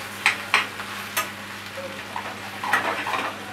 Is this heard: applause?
no